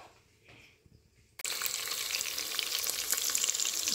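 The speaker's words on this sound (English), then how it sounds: "So it's heated now, so I'm going to add in the chopped onions and the chopped salted fish in it at the same time." A quiet moment, then chopped onions and chopped salted fish hit a hot pan and a loud, dense sizzle bursts in and holds steady for the rest of the clip.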